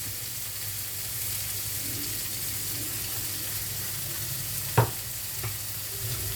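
Green beans sizzle steadily in a hot pan, a soft continuous frying hiss with one brief clink of a utensil partway through.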